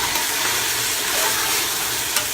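Seasoned beef sizzles steadily in a pot for Trinidadian beef pelau, a continuous close, loud frying hiss with no talk.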